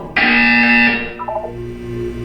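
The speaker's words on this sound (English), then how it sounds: "When you hear the buzzer, look down at the floor." A loud electronic buzzer from the video game Portal 2 blares in one sustained harsh tone for nearly a second, then fades into a quieter, lower stepped electronic tail, alone with no talking.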